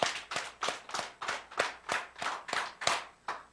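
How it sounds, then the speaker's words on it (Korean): A church congregation claps in unison during a Thanksgiving Sunday service, ten sharp, evenly spaced claps in a steady rhythm, with nothing else in between. "박수 10번 시작"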